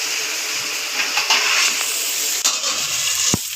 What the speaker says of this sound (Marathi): त्यामध्ये आपण 1 टोमॅटो टाकूया.